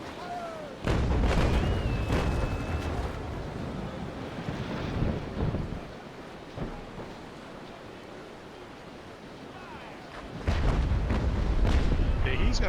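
Sailing-ship cannon broadsides in the naval combat game Naval Action come as heavy booming blasts, one near the start and another near the end. Wind and water noise run between them, and a voice talks at times.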